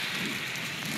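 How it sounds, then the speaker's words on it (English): Dense, steady hiss of heavy rain pouring down, continuous and close, with no voices. "it's pouring down rain right now"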